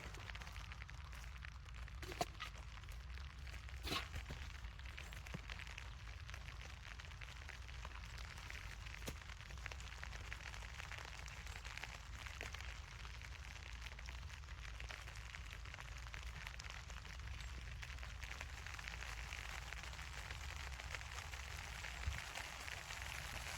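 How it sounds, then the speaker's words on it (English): Steady rain falling outdoors in a homestead garden, a dense even patter with occasional sharper drops and taps. "rain's getting harder"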